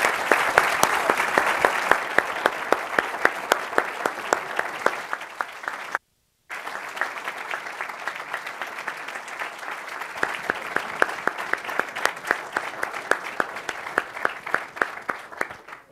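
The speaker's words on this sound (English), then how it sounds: "I think sustained applause says it all" Sustained audience applause at the close of an annual lecture fills a hall with steady, dense clapping, broken by a brief silent gap midway before resuming just as strongly.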